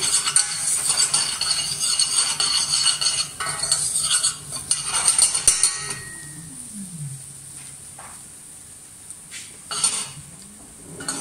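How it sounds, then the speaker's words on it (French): Flour toasts in a pan for a sauce as a utensil stirs and scrapes against the metal, busy clinking and scraping for several seconds, then quieter with occasional knocks. "Une fois que la farine est dedans, on va juste venir la faire torréfier, la cuire un petit peu."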